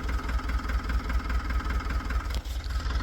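A Hino tow truck diesel engine idles after a turbo replacement, a steady rhythmic low rumble close by, running evenly with no voices over it.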